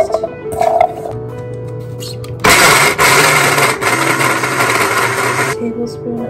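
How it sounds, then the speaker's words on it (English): A kitchen blender grinds dry chickpeas into flour in a sudden loud burst lasting about three seconds, a harsh whirring roar that follows quieter household sounds and then cuts off. "I'm gonna grind up the beans first."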